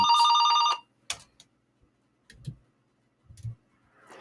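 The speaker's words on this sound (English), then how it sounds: "Man, I can't wait for our phone screener to pick this up." A telephone bell rings in one short burst at the start on a sports talk radio show, followed by a few faint clicks and soft handling thumps in near silence.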